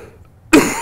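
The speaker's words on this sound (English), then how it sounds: "Sorry for the cough, everyone." A single sharp cough bursts out near the end after a quiet stretch, close and loud, during a livestream about Robotech toy playsets.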